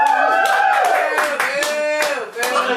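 A live Christmas podcast audience claps and cheers in a room, a burst of near, irregular hand claps mixed with whoops and voices over almost three seconds.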